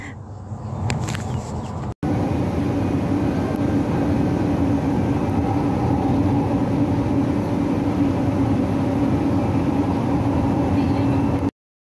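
A steady rumbling hum of a light rail train in motion on the LRT line from Blooming Street toward EDSA in Manila fills the recording, constant and close, with a brief click near the start and no talking.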